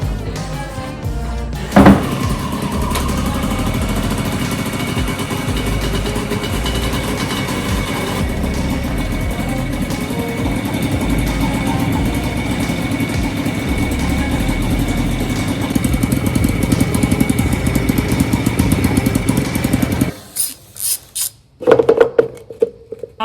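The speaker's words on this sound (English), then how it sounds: "all that's left to do is to see if this bike runs again" A refurbished Yamaha QT50 scooter engine runs steadily at idle with a buzzy two-stroke drone, loud and close, rising slightly near the end before a few revs and a sudden cutoff.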